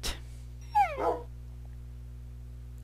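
Minecraft dogs whimpering in a video game, two short high whines in quick succession over a quiet steady hum.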